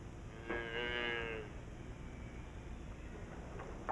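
A single long, low moo from cattle in the dry Australian outback, heard at a moderate distance and lasting about a second over a faint wind-like background hiss.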